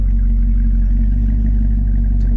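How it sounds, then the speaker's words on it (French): A car engine started remotely with a key fob runs with a loud, steady low rumble and slight revving. It sounds very close, and no one speaks over it. "Je démarre la voiture maintenant du coup."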